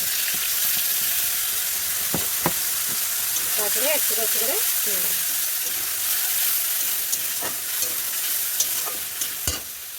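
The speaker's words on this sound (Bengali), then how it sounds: "মশলাটা হয়ে গেছে, দেখো পেস্ট করে নিয়েছি মিক্সিতে। এখন কড়াইয়ের মধ্যে ছেড়ে দিই" A blended spice paste hisses and sizzles in hot oil in a wok while being stirred, a loud steady fry with scraping strokes and a few knocks, and someone speaks briefly over it.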